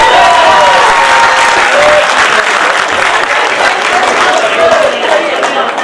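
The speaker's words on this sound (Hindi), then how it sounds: "समझ में आए तो जोरदार ताली बजाइए।" Loud, dense applause from a large audience at a Hindi comic poetry gathering fills the whole stretch, steady clapping with a few voices calling out over it.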